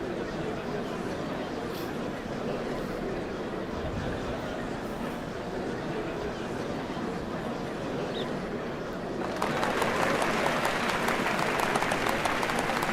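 A crowd applauds in Final Fantasy XIV, a dense wash of clapping that swells noticeably louder toward the end.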